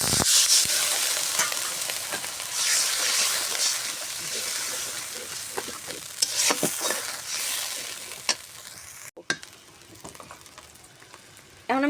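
Onion and ginger-garlic paste fry in hot oil after a splash of water, hissing loudly and steadily close by, with scattered stirring clinks, a brief gap near the end and faint voices.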